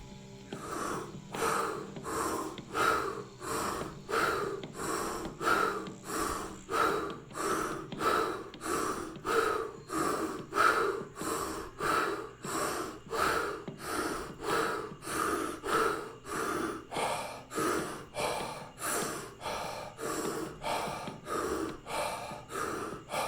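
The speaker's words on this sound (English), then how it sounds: "Deep breathing, final round, let's go for it." Deep rhythmic breathwork breathing in a final round, a fast steady cycle of loud inhales and exhales repeating close to the microphone, with no talking.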